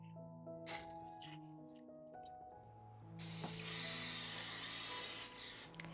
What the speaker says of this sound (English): I did read that you should spray your silicone with nonstick spray too, so I am going to do that.